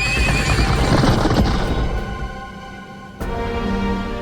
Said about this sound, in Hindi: महाराज घोड़े तैयार हैं।